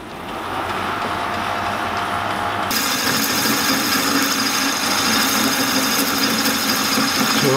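A lathe parting insert cuts into a water pump shaft from a Yamaha 500cc racing engine, a loud steady grinding that turns into a harsh, buzzing chatter partway through, with no talking.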